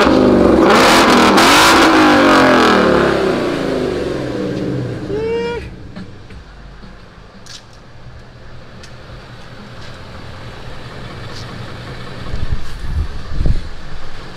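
A Ford Mustang 5.0 engine revs hard and loud up close for several seconds, then settles back to a lower, quieter rumble with faint outdoor background noise.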